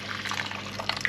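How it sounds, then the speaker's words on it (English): Boiling water pours into a roast beef pan to loosen the scrapings for gravy, giving a short splashing, bubbling hiss with a few bright drips. It lasts about a second. "I'm going to put some boiling water in here"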